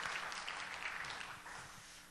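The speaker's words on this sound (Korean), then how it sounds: "우리가 박수로 환영하겠습니다" Church congregation at a Sunday service claps to welcome newcomers, a soft, distant wash of applause that thins slightly toward the end.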